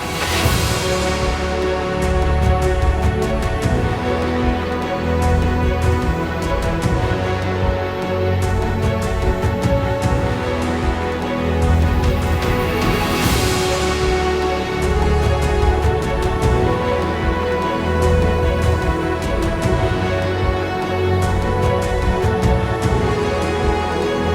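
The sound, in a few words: melodic dubstep verse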